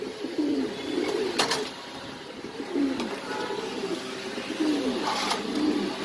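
Pigeons coo repeatedly at a Mirpur pigeon market, low rhythmic warbling calls coming in several overlapping rounds against steady market background noise, with no talking.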